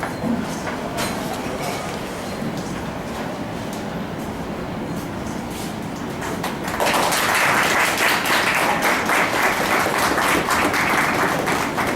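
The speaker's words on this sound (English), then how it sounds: "Can I hear the claps louder, please?" Audience clapping at a book launch in an Oxford Bookstore in Bangalore, starting as a scattered, moderate patter and swelling abruptly into louder, fuller applause partway through.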